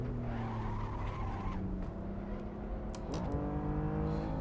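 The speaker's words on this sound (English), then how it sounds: "under heavy braking, this car is very prone to locking" A BMW M4 in the Assetto Corsa racing game at Mosport locks its tires under heavy braking, a loud sustained screech over the droning engine that swoops down in pitch before the engine picks up again.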